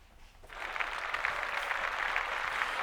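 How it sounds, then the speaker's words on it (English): A studio crowd breaks into steady applause for Taylor Swift, starting abruptly after a brief quiet moment and holding at an even, moderately loud level with no talking over it. "round of applause for Taylor Swift"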